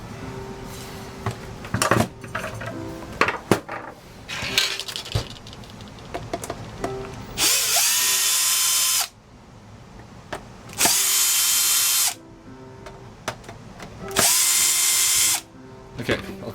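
Power screwdriver backing Torx screws out of a ResMed CPAP machine: three loud, close whirring bursts of about one to two seconds each, separated by handling clatter and brief talk.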